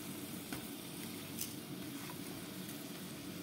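Unwashed coarse bulgur being stirred into a pot of vegetables for pilaf: a faint, steady sizzle with soft scraping stir sounds and a few light ticks, with no voices.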